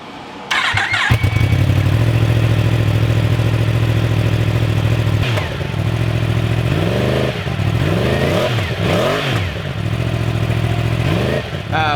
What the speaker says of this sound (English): let's hear how the stock exhaust sounds on the R1 before we start wrenching on it